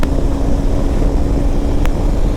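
A Hero Xpulse 210 adventure motorcycle's engine drones loud and close, a steady buzzing rumble held over wind noise as revs build toward 6000 RPM, with no talking.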